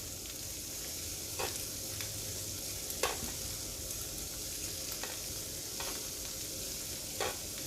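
Shrimp sizzle steadily on a hot hibachi griddle as a home-cooked seafood dish, with a continuous frying hiss broken by a few sharp spatula scrapes and taps, close and moderately loud, with no voices.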